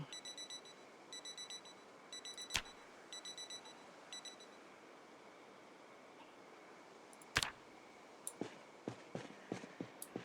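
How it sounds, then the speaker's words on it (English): An alarm in a firehouse beeps in quick, evenly spaced groups of high electronic tones, then stops, followed by a few sharp clanks and knocks nearby. "How do I turn the alarm off?"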